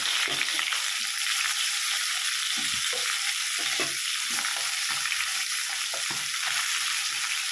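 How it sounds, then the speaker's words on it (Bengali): Bata fish fry in hot oil, a loud, continuous crackling sizzle close by, with irregular low thumps and spatters from the pan throughout. "দিয়ে দিচ্ছি এর মধ্যে মাছগুলো দিয়ে আমি খুব ভালো করে ভেজে নেব"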